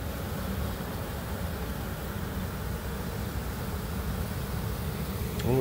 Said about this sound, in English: I wonder what's going on with that little ball of bees over there.